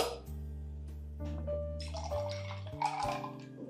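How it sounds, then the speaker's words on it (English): Water is poured into a summer drink with ice cubes, a light bubbling trickle and splash beneath a steady background music bed. "we're going to top it up with some water."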